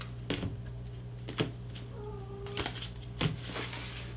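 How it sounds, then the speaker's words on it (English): Pet cat Pumpkin meows softly in the background of a quiet room, a couple of short faint calls between light knocks and shuffling sounds. "If you hear little kitty cat sounds, that's my little cat Pumpkin talking away back there."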